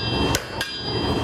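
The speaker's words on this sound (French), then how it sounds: "C'est au son du marteau sur l'enclume que se rythme la journée." A blacksmith's hammer strikes iron on an anvil at an old water-powered forge mill, three sharp metallic blows ringing out close and loud over a steady background hum.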